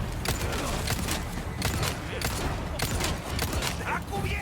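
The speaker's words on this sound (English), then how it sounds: "Who the fuck is shooting me?" Continuous volleys of gunfire aimed at the player in the survival-horror game Resident Evil 4 Remake, dense and loud with repeated sharp shot transients throughout, no speech over it.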